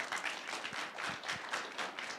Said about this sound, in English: Big round of applause for Stacy, please